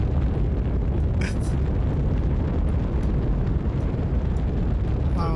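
A rocket lifts off into space in the game Astroneer, producing a continuous loud roaring rumble of broadband engine noise that holds steady throughout.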